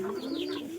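Pigeon in a loft giving a single short, close coo with a steady low warble.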